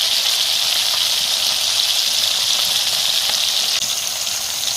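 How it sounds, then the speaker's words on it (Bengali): Large pieces of fish fry in hot oil in a kadai, producing a loud, steady, close-up hiss and crackle that holds evenly throughout without voices. "এখন মাছ ভাজা চলছে।"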